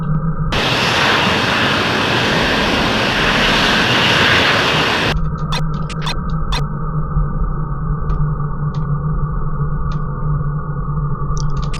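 Jet fighter in the Falcon 4.0 flight simulator taxiing clear of the runway at Palermo, a loud continuous engine whine and roar that surges into a broad rushing blast for several seconds, then settles back to a steady hum with faint ticks.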